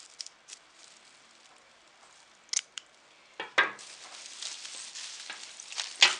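Scissors snip away excess fabric on a handmade patchwork Christmas wreath, giving a few sharp, close cuts and rustling handling of the cloth between quiet pauses.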